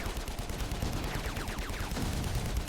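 Continuous distant barrage of artillery and gunfire in the video game AirMech, dense rumbling explosions layered with rapid crackling shots, no speech.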